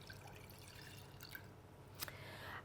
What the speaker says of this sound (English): Got the pan here, into which I'm going to pour my measured out milk.